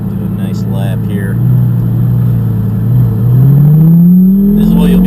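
Lamborghini engine revving and pulling hard on a lap, a loud close rumbling drone rising in pitch toward the end.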